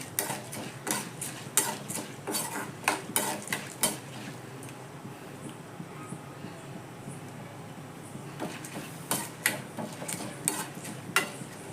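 Chana dal roasting in a pan until golden, with repeated sharp scrapes and clinks of a metal spoon stirring against the pan in quick bursts, a quieter stretch in the middle, and no talk.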